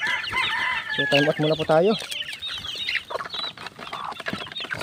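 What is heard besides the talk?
chicks feeding at a trough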